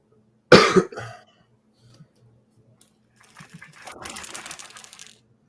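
A man gives one sharp, loud cough up close, followed by a quieter rough throat-clearing, then softer rattling noise trails off in an otherwise quiet room.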